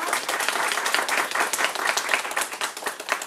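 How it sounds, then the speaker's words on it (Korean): An audience at a social economy discussion forum breaks into steady, dense applause of many hands clapping together, sustained and fairly close for a few seconds. "다 같이 큰 박수로 시작을 하겠습니다."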